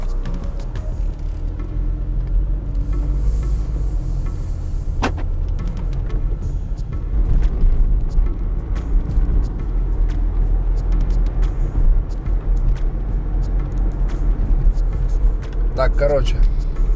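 A car pulls away and drives on, its engine and road rumble steady and loud from inside the cabin, with a voice talking over it.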